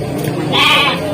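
A goat bleats once at a crowded livestock market ahead of Eid al-Adha, a short, fairly loud, nasal cry over background murmur of people.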